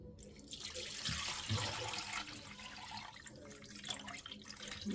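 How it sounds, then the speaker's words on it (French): Water runs in a continuous splashing stream as a litre is poured into a saucepan for a peanut sauce, fairly quiet and close, with no talk. "Donc, on va mettre 1 litre d'eau."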